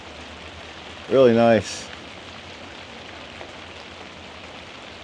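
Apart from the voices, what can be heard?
rain falling on a hot tent shack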